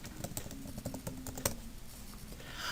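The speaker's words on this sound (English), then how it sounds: "Next to it, I would type in emergent literacy." Fingers type on a computer keyboard in a quiet room, producing a quick, uneven run of soft key taps, close by, with no voices.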